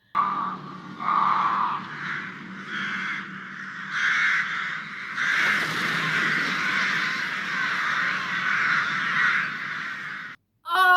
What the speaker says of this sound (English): the birds coming off the trees, so it's not leaves, it's just all the birds in a flock